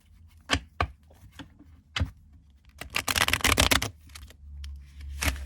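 Tarot cards being shuffled by hand, with a few separate sharp riffles and taps followed by a dense burst of rapid flicking, then a couple more slaps, close and crisp with no talking.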